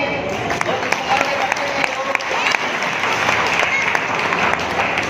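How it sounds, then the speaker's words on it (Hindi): An audience at a celebration speech breaks into sustained applause, many hands clapping steadily and fairly loud throughout, with voices mixed in beneath the clapping. "तो तालियां हो जाए।"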